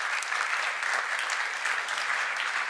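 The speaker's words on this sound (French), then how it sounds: "un tonnerre d'applaudissements pour cette petite équipe" An audience at a faith conference gives a steady, dense round of applause for the small organising team, close and sustained at an even level without pause.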